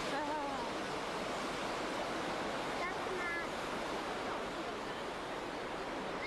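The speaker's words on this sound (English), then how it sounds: "Fergus Cooper lining himself up for Castletown Rapids" Rushing whitewater at Castletown Rapids during a K1 kayak canoe race makes a loud, steady, broadband roar that fills the whole stretch, and faint traces of distant voices sit under it.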